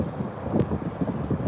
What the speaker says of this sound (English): Thing is, the wind is blowing us right now.